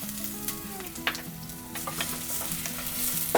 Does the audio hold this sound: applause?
no